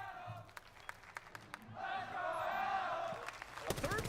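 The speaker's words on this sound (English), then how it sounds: "Cheering for the Bandit trick." A big esports arena crowd at the Six Invitation Rainbow Six Siege finals swells into a roaring cheer, rising and holding for a couple of seconds under live caster commentary, then fading as talk resumes.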